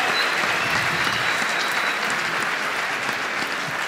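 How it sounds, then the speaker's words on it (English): A dense, steady wash of clapping from a large crowd, continuous and loud throughout. "Can we give a round of applause for all the shapers that we have up here?"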